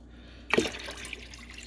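Water mixed with citric acid is dumped out in a single sudden splashing gush that quickly settles into a trickling, dripping tail, close by and alone.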